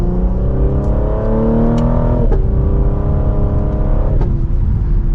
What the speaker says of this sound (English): Those pops sound so good.